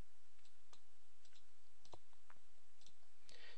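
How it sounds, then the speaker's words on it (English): Computer mouse buttons click several times in quick pairs and singles, sharp and close, while editing in Revit 2014 with no talk. "And again, double clicking, say, a wall profile as well."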